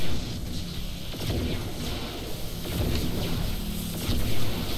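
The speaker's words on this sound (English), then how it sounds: "Again, knocking out pylons." StarCraft II battle sounds as units attack and knock out Protoss pylons: a dense, loud barrage of repeated blasts, impacts and crashing booms rolling on without pause, with no speech.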